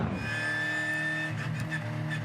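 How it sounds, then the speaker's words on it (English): Race cars rolling slowly down pit straight at Albert Park behind the safety car, a steady low engine drone with faint whine, moderately distant and fairly quiet. "Still under the control of the safety car as the cars roll down pit straight at Albert Park."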